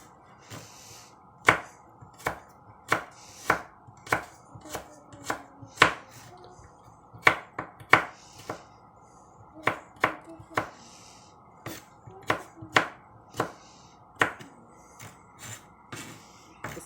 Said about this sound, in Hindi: ग्रीन चिली चाहिए, इनको आप कट कर लें।